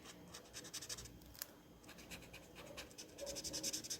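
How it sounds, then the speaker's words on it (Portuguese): A pen scratches across paper while drawing in a quiet room, close and soft, with short repeated strokes in an irregular rhythm and brief pauses between bursts. "Espero que esteja pegando o som da caneta."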